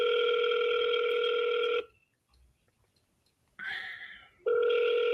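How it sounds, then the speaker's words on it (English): A telephone rings out on a call to a real estate seller lead: a steady electronic tone sounds, cuts to near silence, then resumes twice in a regular repeating pattern, clear and close. "I'm calling another lead right now."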